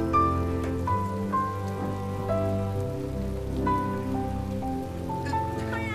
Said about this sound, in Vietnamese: Trời mưa to quá.